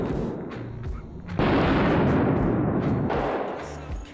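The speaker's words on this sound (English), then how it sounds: "9mm bullets left a couple of holes in the sheet" 9mm pistol shots strike a steel plate at a 15-meter range, loud sharp bangs with a heavy burst of noise and ringing decay, heard close in a short sequence.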